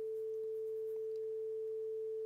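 Test tone played through a subwoofer in a Dolby Atmos studio setup, a single steady pure sine tone held unchanging and alone throughout, fairly quiet.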